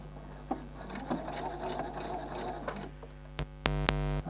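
A sewing machine stitches piping through a piping foot during dressmaking, running in a steady hum for a few seconds, then stopping before two short bursts of stitching at the end.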